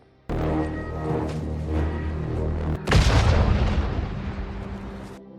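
An explosion from an anti-personnel grenade mine on a war-film soundtrack, a sudden loud booming burst about three seconds in that rolls off over a couple of seconds, following a tense rumbling score.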